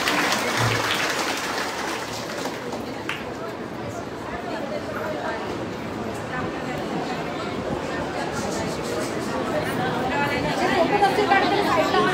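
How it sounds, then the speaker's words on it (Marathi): A crowd applauds at a Vitthal Rukmini temple gathering in Gandhinagar, Kopri, a dense wash of clapping and chatter that carries on steadily for the whole stretch, fairly close and loud, with voices mixed into the clapping. "सर्वांनी टाळ्या वाजवा"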